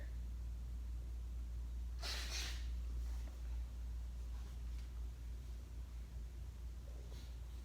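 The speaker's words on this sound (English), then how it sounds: "just because I'm sniffling and blowing my nose" A single short, breathy allergy sniff rises near the start, followed by faint quieter breaths over a low steady background hum.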